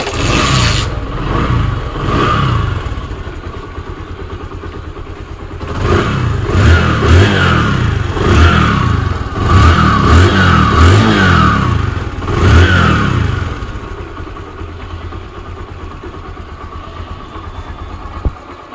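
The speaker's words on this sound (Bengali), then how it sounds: "আমি বাইকটি কিক দিয়ে স্টার্ট করে আপনাদেরকে সাউন্ড দেখে দিচ্ছি।" A Bajaj Discover 100cc motorcycle is kick-started and runs, its engine revving in loud bursts mid-clip before settling to a smoother, quieter idle.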